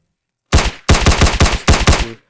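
A simple weapon in a Roblox Studio game fires in a loud, close burst of about eight sharp, rapid shots. The shots come after a brief silence and are grouped in quick pairs before stopping abruptly.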